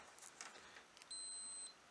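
After a moment of faint hiss, a multimeter continuity tester gives a single short, high-pitched electronic beep, quiet and steady.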